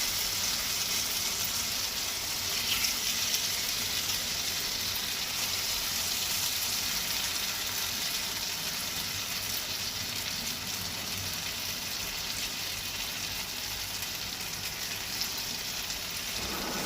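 Chicken pieces sizzle in hot oil and butter in a pan, a dense, steady hiss and crackle that holds without a break throughout, close and fairly loud, no talking.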